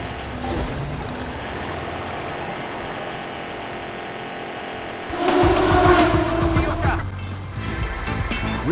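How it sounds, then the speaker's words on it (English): Engine drone and road noise from taxi driving in the video game Taxi Chaos 2 mix with game music and effects, swelling louder midway, while a voice talks over it. "Now this is taxi driving."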